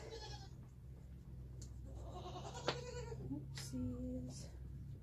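A goat, a buck at feeding time with treats, bleats several times in short wavering calls spread over a few seconds, fairly faint and close, with a person speaking quietly in between.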